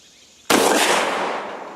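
A GForce GF12 pump-action airsoft shotgun fires one sharp, loud, close blast that starts abruptly after a quiet moment and then tails off slowly.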